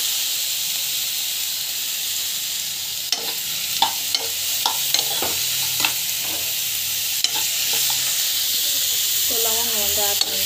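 Tomatoes for a mutton gravy sizzle steadily in a hot pan, with a soft continuous frying hiss and a series of light scraping stirs of a spatula.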